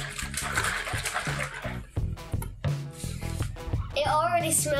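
An EasiYo yogurt maker tub filled with water and mix is shaken, giving close, uneven sloshing and splashing bursts. A voice is heard near the end.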